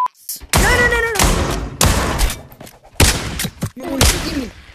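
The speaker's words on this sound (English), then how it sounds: "Kid, stop shooting me." Garry's Mod gunfire: loud, booming bursts of shots in several long clusters with short gaps between them, close and heavy, with people talking over the shooting.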